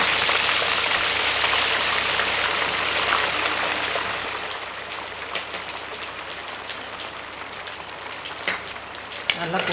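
Fennel, cinnamon and cloves fry in hot sesame oil, a dense crackling sizzle that is loud at first and then settles into softer, scattered popping.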